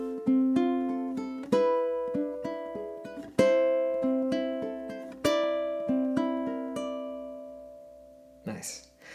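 A ukulele plays a fingerpicked melody of four bars, plucked notes ringing clearly in a steady rhythm, close and fairly quiet, ending with a brief rustle.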